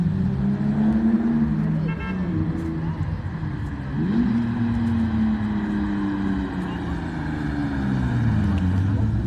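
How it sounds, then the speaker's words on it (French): A BMW revs in the distance while drifting, its engine note rising and falling in long sweeps over steady outdoor background noise. "Une petite BM qui essaye de faire des travers là-bas"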